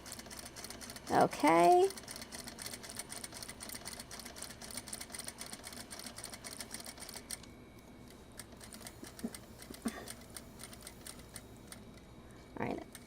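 A home sewing machine runs in a short whirring burst while stitching a fabric purse scarf, a bandeau twilly for a bag, then ticks and clicks quietly as a voice speaks briefly in a sewing room.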